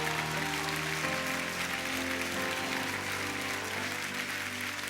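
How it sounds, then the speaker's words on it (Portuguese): A church congregation applauds together in a steady, sustained wash of clapping, with a held instrumental tone ringing underneath throughout. "Ramana Shuri, aplauda o Senhor."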